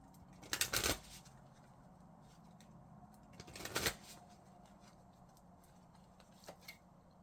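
Forest Spirits Oracle cards being shuffled by hand, with two brisk riffling bursts near the start and middle and a faint card flick near the end, close and quiet with no talking.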